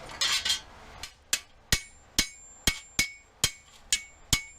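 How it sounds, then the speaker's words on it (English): A hammer flattens sheet metal from a truck bed on an anvil in evenly spaced ringing blows, about eight sharp bings after some rougher scraping at the start. "we're going to go over to the anvil and we're going to flatten out with a hammer"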